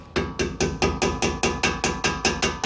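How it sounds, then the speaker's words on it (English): A small ball peen hammer strikes a metal brake bracket on a Camaro in a steady, even rhythm, about a dozen sharp ringing taps close up, with no talking. "I'm going to go in the back here with a little ball peen hammer and hold the bracket in place."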